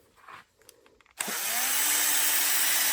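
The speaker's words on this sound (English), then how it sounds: "that can be addressed with a sander" A power sander smooths the bottom of a small wooden miniature vase: a few quiet handling sounds, then the motor switches on abruptly and runs as a loud, steady, high whine.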